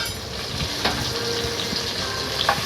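Chopped tomatoes fry in a pan of oil for a vegetable biryani, giving a soft continuous sizzle with a few faint clinks and stirring scrapes, no one talking.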